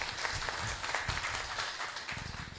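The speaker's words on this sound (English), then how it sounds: "Please give him a round of applause." An audience claps after a kirtan at a Ratha Yatra gathering, a brief burst of scattered applause from a crowd in a hall, moderately loud and fading near the end.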